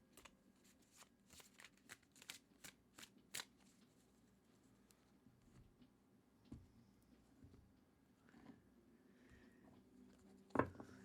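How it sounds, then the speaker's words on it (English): A tarot card deck is shuffled close up, a run of crisp riffling bursts followed by softer sliding and shuffling of the cards, with a sharper snap near the end. "I am going to give the deck a really good shuffle for you"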